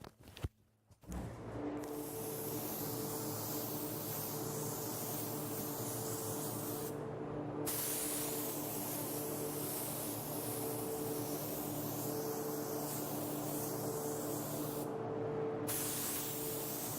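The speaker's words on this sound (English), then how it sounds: "let's get to spraying" A spray gun sprays Orion SilverMax base paint in long continuous hissing bursts, briefly stopping twice between passes, loud and close with a faint steady hum beneath.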